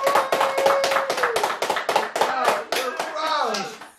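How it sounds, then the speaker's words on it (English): Hands clap in a quick, steady rhythm of sharp close slaps, with a voice talking and calling out over them throughout. "Clap, harder."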